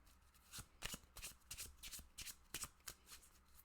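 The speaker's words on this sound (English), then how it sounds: "Now, shuffle, shuffle, shuffle. And see what comes up from the TBR cards" A deck of TBR reading cards is shuffled by hand, giving a quick, steady series of crisp riffling bursts, quiet and close.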